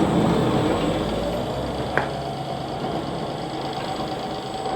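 A D30Smini compact stone flour mill with sifter runs with a steady, close, continuous motor hum and a faint grinding rumble, broken once by a brief click.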